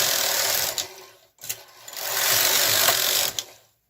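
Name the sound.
Brother KH-230 knitting machine carriage knitting rows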